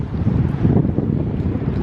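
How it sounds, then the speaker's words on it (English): Strong wind buffets an outdoor microphone on a very windy day in Wisconsin, a loud steady low roar with gusty swells and no voices. "Very windy day."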